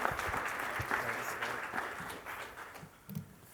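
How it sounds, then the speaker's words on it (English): A lecture audience at an executive business talk claps at a moderate distance in a steady, dense patter. The clapping tapers off toward the end, with a brief low thump near the close. "Let's give a round of applause to our speaker today,"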